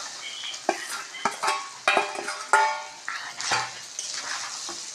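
Okra fries in a pan with a soft sizzle, as a utensil stirs and scrapes it and occasionally clinks against the pan. The sounds are close and moderately quiet, with no talking.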